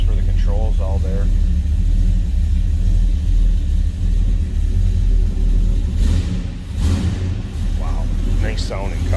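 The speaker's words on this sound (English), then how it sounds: "Nice sounding car." A 1966 Chevrolet Chevelle Malibu Sport Coupe with a mild cam idles in a deep, steady, loping rumble close by, while someone talks over it.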